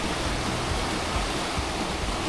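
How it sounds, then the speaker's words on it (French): The Gifre river rushes through mountain gorges in Haute-Savoie, a constant, loud roar of churning whitewater with an even texture and no other sounds. "Toute la rivière du Gifre qui passe dans ces gorges."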